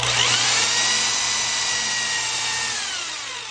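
A power drill with a Forstner bit bores into wood, a loud close whine under load that slowly winds down and fades toward the end.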